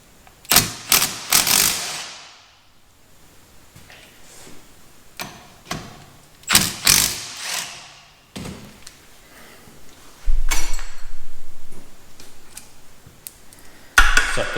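Sharp bursts of rattling impact-tool clatter removing the two 14 mm brake caliper bolts on a 2006-2012 Ford Fusion front brake, loud and close, with separated bursts, some clinking of metal and a low rumble near the end.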